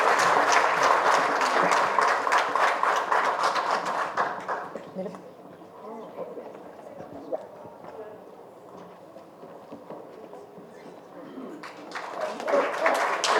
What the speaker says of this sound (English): A round of applause for this amazing interaction.